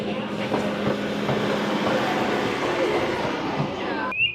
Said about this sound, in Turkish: Bu Legoland'ın içinde de böyle geniş geniş gezmemizi sağlayacak trenimiz var.